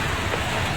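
A hailstorm in Bocaue, Bulacan hammers a vehicle, a dense, loud, continuous roar of ice pellets striking the roof and windows.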